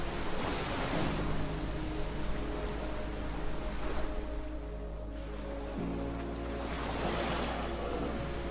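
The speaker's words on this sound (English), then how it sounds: "Along the shores, the waves roll in, one after another, shaping the coastline" Ocean waves roll steadily onto a sandy shore on K'gari island, Australia, a continuous broad wash of surf that swells and eases as successive waves break, alone without voices.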